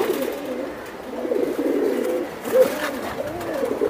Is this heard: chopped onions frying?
no